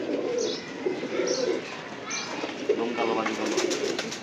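Pigeons coo softly in low, rolling murmurs close by, mixed with someone talking over them, with a few brighter chirps toward the end.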